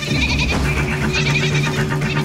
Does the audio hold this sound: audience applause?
no